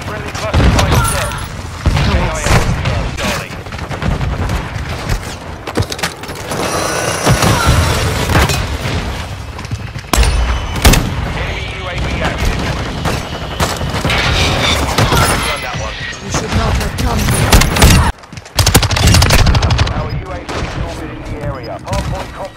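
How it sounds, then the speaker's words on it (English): Cluster strike explosions in Call of Duty Modern Warfare 2 hit in a dense, loud barrage of booming blasts and gunfire that rolls on continuously, with radio voice callouts heard over the chaos. "Friendly cluster strike set."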